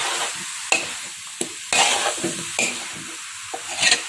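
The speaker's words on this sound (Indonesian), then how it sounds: "setelah kita aduk rata seperti ini." Jackfruit rendang stirred in a pan, with a spatula scraping in sharp, irregular strokes over a soft, steady sizzle, close and fairly loud.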